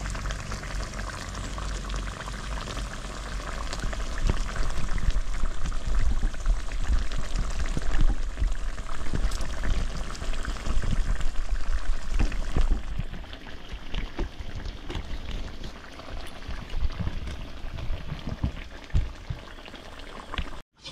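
A tilapia curry in poppy seed paste bubbles and sizzles in a pan on the stove, a steady close simmer that continues without pause.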